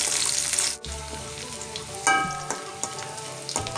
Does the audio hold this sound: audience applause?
no